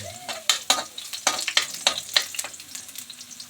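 Garlic sautéing for adobo, a close sizzle broken by several sharp scraping strokes of a spatula against the pan in quick succession.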